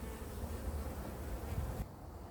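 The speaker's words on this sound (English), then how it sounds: "just see what the bees are doing" Dense, continuous buzzing of many honey bees up close during a beehive cut-out, a steady humming swarm that cuts off abruptly near the end.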